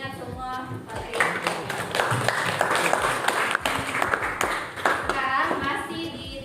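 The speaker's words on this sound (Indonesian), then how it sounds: "beri aplaus dulu untuk temannya yang masih ingat semua materi" A classroom of students gives applause for a classmate, a loose burst of scattered hand claps with overlapping voices of children and the teacher.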